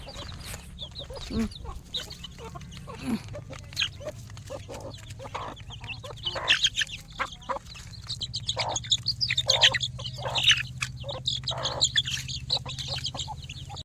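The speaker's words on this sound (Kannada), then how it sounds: "ಇದು ನಮ್ಮದೊಂದು ಕೋಳಿ ಮನೆ ಒಳಗಡೆನೇ ಬಂದು ಮೊಟ್ಟೆ ಇಡಬೇಕಂತೆ" A hen that has wandered inside a house to lay an egg clucks repeatedly in uneven bursts for the whole stretch, fairly close and moderately loud, with a few higher chirps mixed in and no voices.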